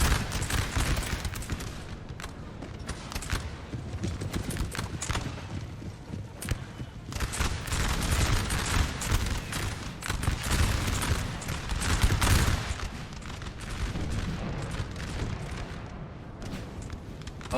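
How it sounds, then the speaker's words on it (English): Artillery fire in Napoleon Total War during a large 4v4 battle, heavy booming shots and crackling volleys rolling on continuously, dense and loud amid the battlefield din. "This is going to be a juicy, juicy artillery shot."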